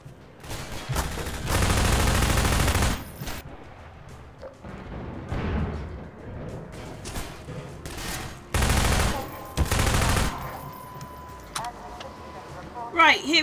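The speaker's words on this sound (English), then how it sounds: "Okay, gun out. SMG! Always my favourite of the guns." Bursts of SMG fire from Half-Life 2 rattle out in several loud volleys between quieter stretches, with someone talking over parts of the action.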